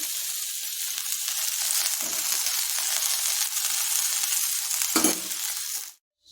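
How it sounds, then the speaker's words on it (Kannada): Vegetable-loaded instant tiffin frying in oil in a pan, oiled on both sides: a steady close sizzle runs throughout with two brief louder crackles, then cuts off near the end. "ಎರಡೂ ಕಡೆ ಎಣ್ಣೆ ಹಾಕಿ ಚೆನ್ನಾಗಿ ಸುಡಬೇಕು"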